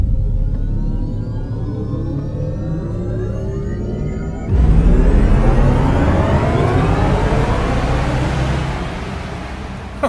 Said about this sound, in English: You want to hear the race start sound?